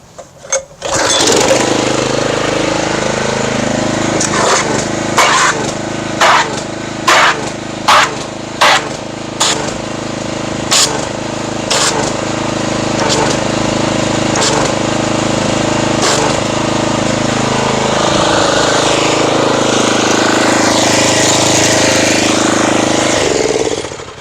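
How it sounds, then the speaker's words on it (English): A pressure washer runs loud and close during a car wash with Pro C-48-P shampoo and wax, agitating it in a bucket. A steady engine-like drone is broken by a series of sharp, evenly spaced bursts, then settles into a continuous roar. "let me go ahead and get the pressure washer"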